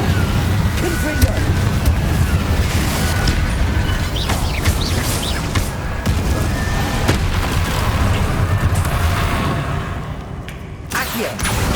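Spell blasts from Incendio and Confringo in Hogwarts Legacy boom and crackle continuously, a loud, dense wash of fiery bursts and impacts that runs nearly unbroken across the whole stretch.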